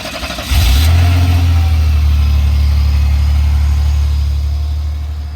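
A 1987 Pontiac Fiero GT fires up with a short crank, then settles into a loud, steady, low-pitched engine drone close by, slowly easing off toward the end with no voices.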